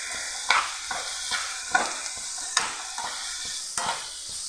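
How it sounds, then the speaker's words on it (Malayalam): Carrots stirred with salt in a pan over a high flame, giving a steady sizzle broken by about eight sharp scrapes and clinks of the spoon at uneven intervals. "ഫ്ലെയിം ഒന്ന് കൂട്ടി വെച്ച് നല്ല പോലെ ഒന്ന് വഴറ്റിയെടുക്കാം"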